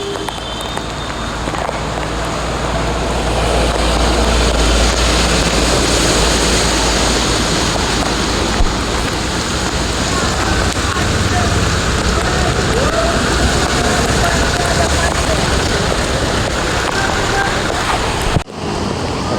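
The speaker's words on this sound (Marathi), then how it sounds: "पावसाचा जोर पुन्हा वाढलाय आता" Heavy monsoon rain pouring down in Nalasopara, a dense, loud, continuous roar of rainfall on surfaces that holds steady throughout, ending with a brief dropout.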